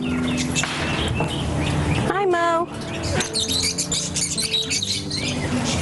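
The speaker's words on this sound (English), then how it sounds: "So this is our aviary, where all of our exotic birds and our sloth live" Exotic birds call and squawk inside a farm aviary, a steady chorus of chirps and one rising squawk over the background while a person speaks briefly nearby.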